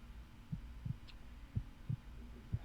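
A slow heartbeat sound effect for a tabletop horror roleplay session: six soft, low double-thumps evenly spaced about every third of a second to half second, alone over a faint steady hum.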